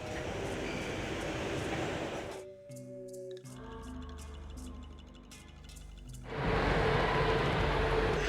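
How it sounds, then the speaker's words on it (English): A subway train ride in the Nancy Drew game Secret of the Scarlet Hand: a low rumbling carriage hum with clacks and mechanical tones, framed by louder ambient noise at the start and end. "back on the subway we go"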